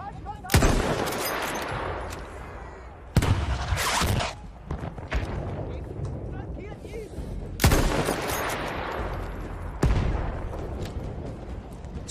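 Gunfire in the World War I shooter Battlefield 1: several loud, sharp shots and bursts at about 0.5, 3, 7.5 and 10 seconds, with rumbling battle noise filling the gaps between them.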